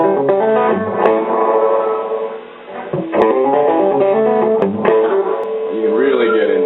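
An electric guitar rings through an amplifier with a slapback reverb, giving several strummed chords that sustain and overlap with a roomy echo, loud and close.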